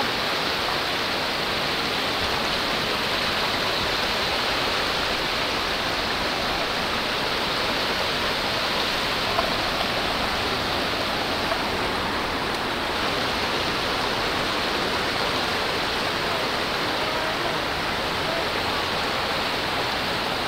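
Strong sea waves crash and churn like a waterfall, a loud, continuous broadband roar of rushing water that stays steady throughout with no talking.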